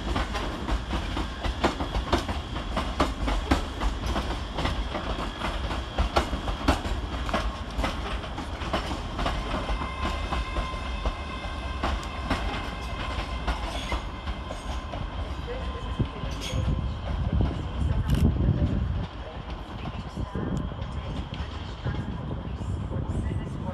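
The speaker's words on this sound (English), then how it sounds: "Whilst departing on the far side is 385030 with the 1419 ScotRail service to Edinburgh Waverley via Shotts" A ScotRail class 385 electric train pulls out from the far platform at Glasgow Central, bound for Edinburgh Waverley via Shotts. Wheels clatter and rumble at a moderate distance beneath a constant station hum, with the rumble swelling near the end.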